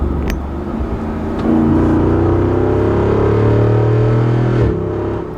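A 2024 Jeep Wrangler Rubicon 392 with its 470-horsepower V8 accelerates hard, a loud, deep engine roar that climbs steadily in pitch through the gears before easing off near the end, heard close with no talk.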